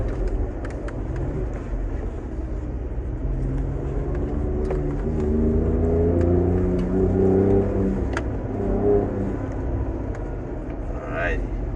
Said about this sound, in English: Downshifts, guys.